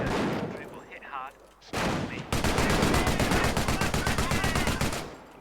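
Dense automatic gunfire and heavy explosions from a World War II battle in Company of Heroes, beginning with shouted commands and then turning into a sustained, loud rapid-fire barrage that continues to the end.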